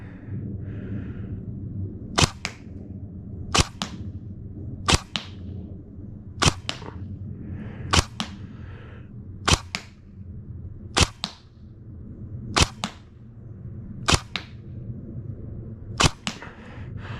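A G&G TGM R5 ETU MP5 airsoft replica fires BBs at a target at about 35 feet, giving ten single sharp snapping shots spaced evenly about a second and a half apart. Each shot stands out close and crisp over a quiet background hum.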